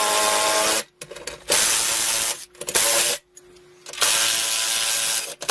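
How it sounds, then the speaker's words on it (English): Power drill driving bolts to mount a P90X wall pull-up bar, heard as three loud, close bursts of whirring with brief pauses between them. "if you have a drill like this, it's much quicker."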